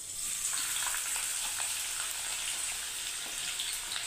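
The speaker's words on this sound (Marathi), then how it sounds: "असं कांदा आपल्याला चिरून घ्यायचा आहे आणि आता तो मी या तेलामध्ये घालणार आहे" Thinly sliced onions fry in hot oil for spicy kharda chicken, a steady close sizzle and hiss with faint stirring clicks and no talking.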